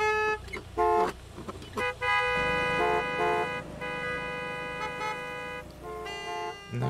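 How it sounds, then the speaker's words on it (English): Car horns honk repeatedly in Gas Station Simulator, loud overlapping toots in bursts of varying length, some long sustained blasts, crowding close together with no talk. "So many honks."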